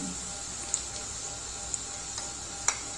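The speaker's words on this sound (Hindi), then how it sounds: "प्याज को हमें ज़्यादा ब्राउन नहीं करना है।" Onions frying in a pan while cooking bhindi sabji, a steady soft sizzle with a few faint clicks and taps over it, fairly quiet and close.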